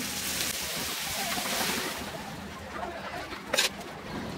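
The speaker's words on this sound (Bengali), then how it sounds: "এই ডাইলটাকে আমি এর মধ্যে দিয়ে দিব একটু নেড়ে দিয়ে দিই" Warm dal made with drumsticks, bottle gourd and bitter gourd is poured into hot tempering in a pot and stirred. It gives a steady, rain-like hiss of sizzling liquid with a brief sharper splash near the end.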